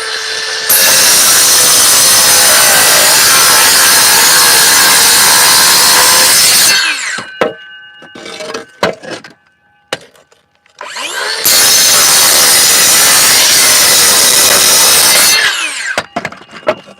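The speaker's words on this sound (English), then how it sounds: "Got to make a cut here. It's going to get loud." A power saw cutting, loud and close, with two long sustained whining cuts separated by a stretch of quieter clunks and handling noises.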